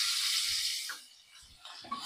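Sliced medium onion sizzling in hot oil inside a pressure cooker while ghee rice is prepared, a steady bright hiss that fades briefly and returns, with a few soft clicks and clatters underneath.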